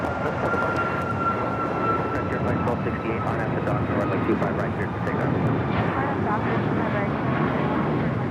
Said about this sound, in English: That is United Airlines 279 taking off to Tampa, Florida on the MAX 8